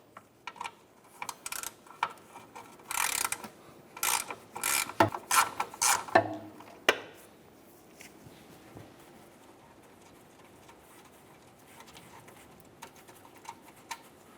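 Hand ratchet working a 13mm bolt on a bracket for the fuel filler neck of a 2000-2006 Chevrolet Tahoe, giving quick bursts of clicking in the first seven seconds, then quiet.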